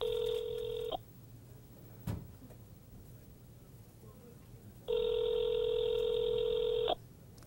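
A telephone ringback tone purrs in two long, steady bursts of about a second and two seconds, with a quiet gap and a brief click between them, near and clear.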